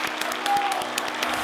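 Thank-you applause from a group at the close of a Korean naval training challenge, a steady wash of clapping lasting the whole moment, fairly close and full, with some voices mixed in.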